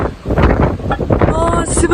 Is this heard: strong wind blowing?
yes